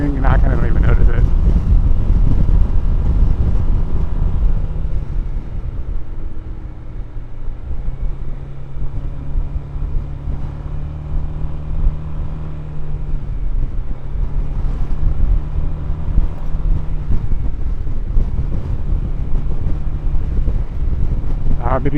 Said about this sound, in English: there's like crosswinds coming through here